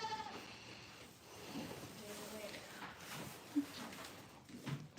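Goats on a small farm give a couple of short bleats partway through, mixed with a steady murmur of people talking close by.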